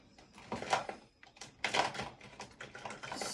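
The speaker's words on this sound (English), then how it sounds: "So if you can hear that, I'm kind of digging through my pens." Pens being rummaged through in a container at a craft desk, a quiet string of light plastic clicks and rattles.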